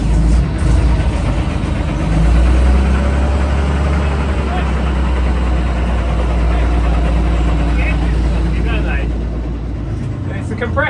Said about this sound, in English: The compressor knocking, but you think it's always the engine.